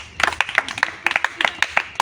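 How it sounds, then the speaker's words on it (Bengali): Brisk clapping from a small crowd cheering a contestant at a village ball-knocking game, a dense run of sharp close handclaps with uneven rhythm and no talk. "সকলে জোরে হাততালি।"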